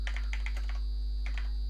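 Quick clusters of keystrokes on a computer keyboard, close and crisp, with a short pause before a couple more taps, over a steady electrical hum.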